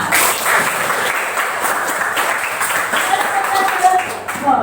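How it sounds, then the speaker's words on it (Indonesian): A classroom full of students claps steadily for several seconds, a dense patter of hands with a voice or two mixed in. "Tepuk tangan untuk semua"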